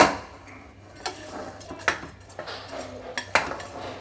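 Roasted ingredients being added into ghee rice in a pot, with a series of sharp metallic spoon clinks and taps against the vessel at irregular intervals, close and clear, without speech.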